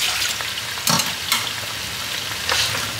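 Potato and brinjal pieces stirred in ghee in a pan for mutton dhalca, loud close sizzling with a few scraping strokes of the spoon, steady throughout and no speech.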